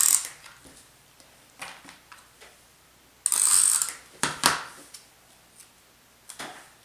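Double-sided tape is peeled and pressed onto a handmade Valentine papercraft card, giving a couple of short, sharp, close ripping bursts amid quiet handling noises, with no talking.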